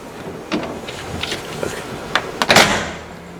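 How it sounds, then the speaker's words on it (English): Sliding pocket door on a one-year-only antique car with a fiberglass body, giving a few soft rolling scrapes and knocks that build to a sharper sliding thud near the end, close by. "Unique features, such as how about sliding pocket doors."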